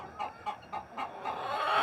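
Egg-laying hens on fresh pasture cluck in a close, steady rhythm of about four short calls, then a rising rush of background noise swells underneath.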